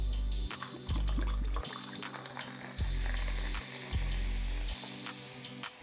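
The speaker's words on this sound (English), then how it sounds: "Next, we're gonna top it off with club soda." Club soda being poured over ice into a Collins glass for a Gin Rickey, a continuous close fizzing and splashing pour with a few clinks of the glass and ice, no voices.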